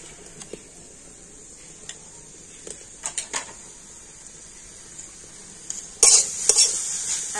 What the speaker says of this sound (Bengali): আর এবার আমি নারকেল আর আখের গুড়টা ভালো করে মিশিয়ে নেব।